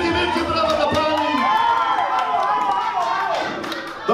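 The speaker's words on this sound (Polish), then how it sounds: "zróbcie wielkie, wielkie brawa dla pani" Guests at a wedding reception clap and cheer loudly and close by for a woman after a party game, with music and voices mixed in over the continuous applause.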